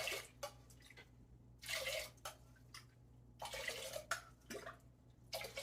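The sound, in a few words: water poured onto rice and moong dal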